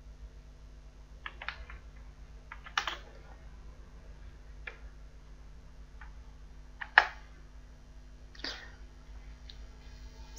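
Computer keyboard typing in a quiet room, a few scattered soft key clicks in short bursts over a low steady hum, close and faint.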